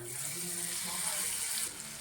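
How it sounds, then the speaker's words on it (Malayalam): A steady pour of vinegar into a pan, a continuous hissy splash lasting about two seconds, close and fairly even, ending slightly softer. "ഇനി നമുക്ക് കുറച്ച് വിനാഗിരി ഒഴിക്കാം."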